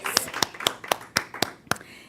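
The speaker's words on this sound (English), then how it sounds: "let's give him a round of applause" A handful of slow, distinct hand claps at a gathering, about eight sharp, evenly spaced slaps, fairly close and clear with nothing else around them.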